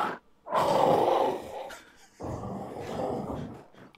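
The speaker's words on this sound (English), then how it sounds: "That's labeled animal bark and growl." An animal barks and growls in a royalty-free sound effect: two long, rough, snore-like growling bursts with a breathy, grunting texture, heard alone and close.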